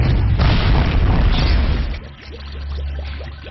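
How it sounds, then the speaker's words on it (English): A loud booming explosion erupts in an inflammable atmosphere on an oil tanker, a heavy roaring burst that fades into a lower rumbling tail. "This, in turn, will lead to an explosion in an inflammable atmosphere."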